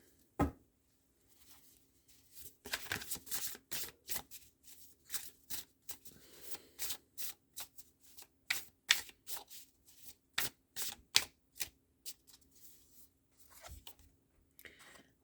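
Astrology cards shuffled by hand for a full-moon card reading, giving quick repeated riffling bursts in an irregular rhythm, close and fairly quiet, with no talking.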